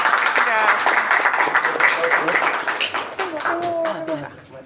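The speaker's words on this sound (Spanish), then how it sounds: "Le pedimos un fuerte aplauso por Diana." Close, loud clapping from an audience at a book presentation, sharp individual claps within a steady round of applause that tapers off toward the end, with voices audible underneath.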